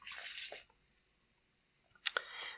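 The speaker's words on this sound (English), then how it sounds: "So we'll shuffle that into our deck." Short papery riffles from shuffling a deck of Arkham Horror LCG game cards, two close bursts separated by a quiet gap, the second sharper with a crisp snap.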